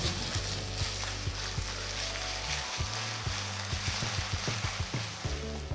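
Ginger-garlic paste and green chilli paste frying with onions in a pan for a dhaba-style taro root masala curry, a soft continuous sizzle broken by repeated scraping taps of a spoon being stirred through.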